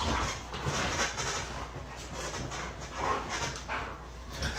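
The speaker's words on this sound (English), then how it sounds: "This guy wanted to see what would happen if he screamed while his dogs were playing." Several dogs play together, giving faint, scuffling bursts of panting, snuffling and small whimpers at a distance, with no talking.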